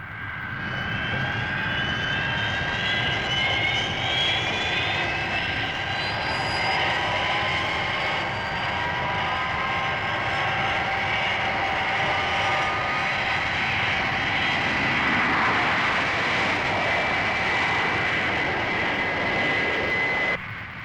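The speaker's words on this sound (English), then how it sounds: "That's certainly some aircraft." A Fireflash airliner from Thunderbirds taking off, its jet engines roaring loud and steady throughout with a high whine above the rumble, no voices.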